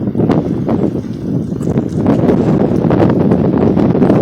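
Strong wind buffeting a microphone on a high terraced hillside construction site, loud gusty rumbling that swells and stays heavy throughout, with no talk.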